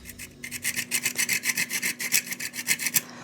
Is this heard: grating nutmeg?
yes